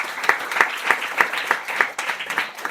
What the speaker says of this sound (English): I believe we should all have a round of applause for all those who participated